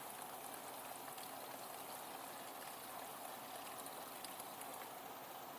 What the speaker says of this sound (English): the hot water's out of the tap